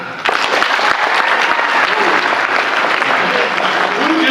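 Audience applause at an X-Men comic book panel at the C2E2 convention, a dense, steady clapping crowd that breaks out abruptly and keeps going at an even level, close and loud throughout.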